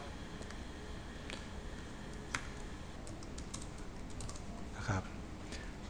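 Keys tapped on a computer keyboard while entering a true-or-false quiz question, soft irregular clicks under a steady broadband hiss.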